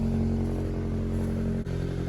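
A Honda Civic's exhaust idles steadily after a new pipe is welded on, with a low, even drone and a faint leak, broken by one brief dip.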